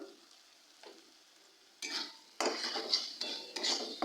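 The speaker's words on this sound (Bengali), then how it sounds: "এই সমস্তগুলোকে খুব ভালো করে কষিয়ে নেব" Ground spices (turmeric, cumin, coriander, Kashmiri chilli) being stirred in a pan for a meatless fish-style curry: soft scraping at first, then louder bursts of sizzling and metal utensil scraping in the second half, with no talk.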